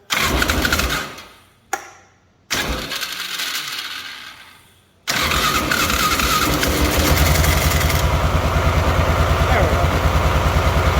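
A Polaris Sportsman 500 ATV with a reluctant key switch cranks with a few short bursts, then fires up into a steady, loud idle that runs on evenly to the end, with a voice speaking briefly near the start.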